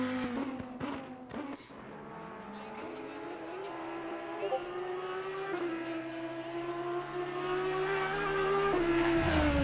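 GT racing car engines in the video game Assetto Corsa Competizione whine and shift pitch as they accelerate, with bursts of noise early on and a steadily rising roar toward the end.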